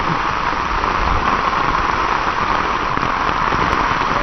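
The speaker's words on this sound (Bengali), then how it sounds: "এখন যে পরিমাণ বৃষ্টি হ্যাঁ শুরু হয়েছে" Heavy rain pours steadily on the trail to Napittachora Waterfall near Mirsarai, Sitakund, a loud, constant broadband wash with no break and no voices.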